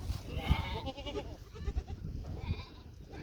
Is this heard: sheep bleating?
yes